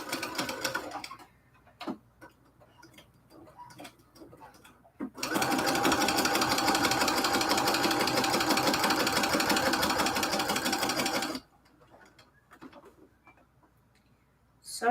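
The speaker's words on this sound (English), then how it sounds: "Sewing that curve gets easier every time you do it" A sewing machine stitches a curved seam on cathedral window quilt fabric, running in a steady, fast, loud burst for about six seconds, with quiet handling noises before and after.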